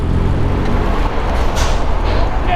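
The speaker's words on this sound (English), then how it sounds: "cars turning right." Dense, loud road traffic on Eastern Parkway in Brooklyn as cars turn right, a steady rumble of engines and tires with a brief hiss like a bus air brake, heard close from a cyclist's position.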